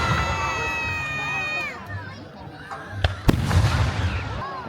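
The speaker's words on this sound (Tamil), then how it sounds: "ஆக்சுவலாக எங்களுக்கு தலை மேலே வெடிச்சிட்டு இருக்குது வெடி." Festival fireworks burst directly overhead with a couple of sharp, loud cracks and crackling bangs, while a crowd shouts and children yell close by and a whistling trail sounds early on.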